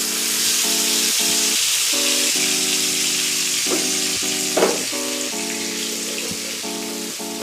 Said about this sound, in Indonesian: Panaskan sedikit minyak, terus kita goreng bumbu halusnya.